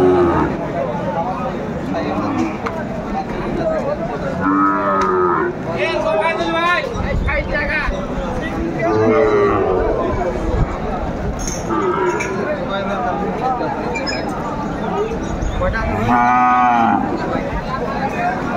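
Sahiwal cattle low repeatedly at a cattle market in Meherpur, long drawn-out moos rising over a steady crowd of talking voices and background bustle.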